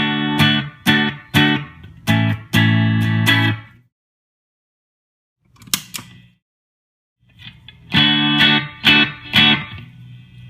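Electric guitar played through a Seymour Duncan Pickup Booster pedal turned up, with a single coil bridge pickup; a run of loud strummed chords rings out, then a pause and a brief quiet note, then another burst of chords.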